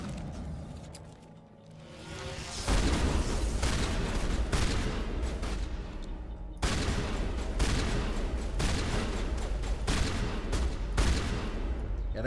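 Shotgun fire in the Mass Effect 1 video game comes in sustained, dense bursts of overlapping blasts over a constant battle rumble, with a brief lull near the start and no talk.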